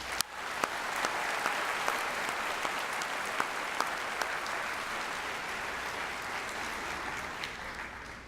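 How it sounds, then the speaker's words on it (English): A high school graduation crowd applauds in a large venue, a sustained and even roar of clapping with a few sharper individual claps standing out, gradually easing toward the end. "please join me in giving them a thank you round of applause"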